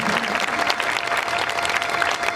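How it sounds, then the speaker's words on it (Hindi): Steady clapping from a crowd at an annual ashram festival in Jodhpur, dense and continuous throughout, with no pauses. "ऐसे उत्सव, बहुत धीरे तालियां"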